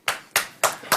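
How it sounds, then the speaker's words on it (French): A few hands clapping at a French tech talk on reactive applications running on Raspberry Pi, four distinct evenly spaced claps, close and crisp, with silence between. "Applaudissez le volontaire quand même."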